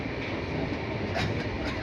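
The Howrah–Mumbai Mail overnight passenger train rumbles steadily along the tracks, a continuous low roar with faint rhythmic clatter, heard from inside a carriage.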